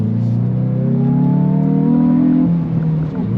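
A Hyundai i20N's engine pulls hard under acceleration while driving, a loud close rising drone that climbs in pitch for a few seconds before easing off.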